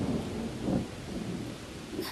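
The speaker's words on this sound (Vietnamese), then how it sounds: "Mưa to thế này sẽ tạt hết vào chuồng ngựa mất thôi." Heavy rain pours densely through a stormy night in an animated folk-tale film, with low rolling thunder rumbling beneath the steady downpour.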